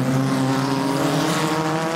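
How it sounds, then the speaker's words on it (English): A Cooper Climax rear-engined historic Formula 1 race car in Rob Walker colours howls loudly and steadily through a chicane at a Goodwood Revival race, its engine note close and sustained with no voices over it. "Paul Griffin, you just saw going through the chicane there in his Rob Walker coloured Cooper Climax"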